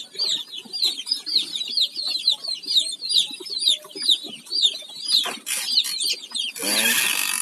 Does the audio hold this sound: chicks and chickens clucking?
yes